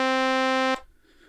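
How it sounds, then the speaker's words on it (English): One bright, buzzy FM synth tone from a Liven Mega Synthesis holds steady, then cuts off abruptly with an instant release, leaving only faint room noise behind. "So an instant release would sound like this."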